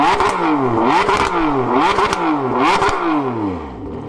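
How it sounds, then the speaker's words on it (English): A Ferrari 599 GTB V12 revs hard through its valved exhaust, rising and falling in four or five quick blips with a rasping howl, loud and close, no voices. "V12 sound, you just can't beat it, can you?"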